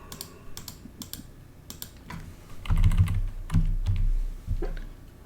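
Someone is typing on a computer keyboard up close in an irregular burst of clicks and clacks. The keystrokes cluster and grow heavier midway, with a few thumping presses.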